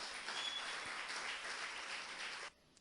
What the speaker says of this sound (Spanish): Fuerte, fuerte ese aplauso.